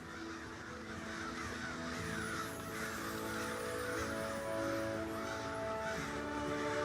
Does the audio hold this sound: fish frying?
no